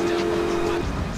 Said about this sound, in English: I did sound my horn.